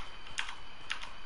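Keys on a Redragon K552 mechanical keyboard clack in two quick clusters of crisp clicks about half a second apart, close and moderately loud, with no talking.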